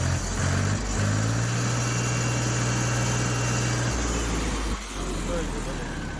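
A Mahindra B 275 tractor with oil brakes and self-start runs steadily nearby, its engine droning in a low continuous hum with a brief dip near the end, under a faint voice.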